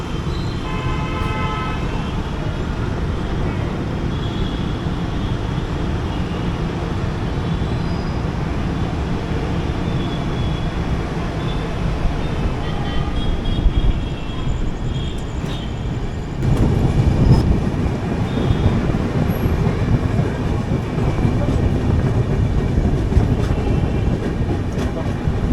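The 16320 Kochuveli Humsafar Express running from Bengaluru SMVT toward Palakkad, a continuous low rumble heard from inside the coach, with faint tonal whines early on and a heavier rolling surge past the midpoint.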